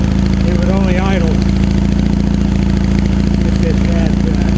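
A vintage high-performance Triumph motorcycle engine idles while warming up, giving a loud, steady, close rumble throughout as someone talks over it.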